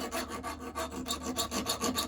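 A file works over a knife tang in quick, even back-and-forth rasping strokes, close and steady, with no talking.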